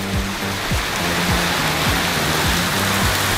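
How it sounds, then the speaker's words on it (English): Heavy rain pours steadily on the roof of a Sprinter van during a downpour, a dense, continuous hiss with rhythmic low drips or thumps repeating throughout, loud and close. "It is absolutely pouring."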